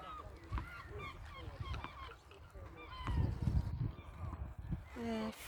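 Gulls cry on a sunny beach on the Yorkshire coast at Scarborough, with repeated harsh calls near and far over breeze and surf-like background noise and distant voices.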